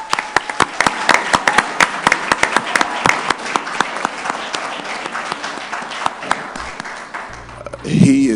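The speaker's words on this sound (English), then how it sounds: "Another round of applause." Audience applause after a speech at a BOC event, sharp individual claps over a dense ongoing patter, fairly loud and close, fading near the end as a voice begins to speak.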